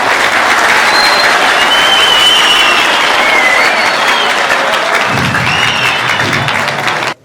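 An audience applauds groups on a competition show, loud, continuous dense clapping that holds steady for several seconds before cutting off abruptly.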